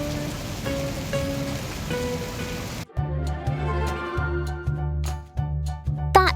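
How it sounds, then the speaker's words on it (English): Rain patters steadily at first, then gives way to a brighter, clicking patter of drops over a low hum, with no voices. "After sowing the seeds, a rain shower fell"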